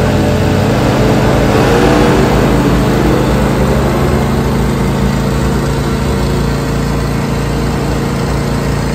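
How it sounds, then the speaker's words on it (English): A Harley-Davidson Iron 1200 motorcycle with an air-cooled 1200cc Evolution engine idles nearby, a loud, steady low rumble throughout with no voices. "It's got an air-cooled 1200cc Evolution engine, 70s-inspired tank graphics."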